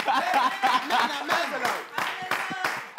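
Audience clapping in bursts of irregular hand claps, close and fairly loud, mixed with chuckles and light laughter.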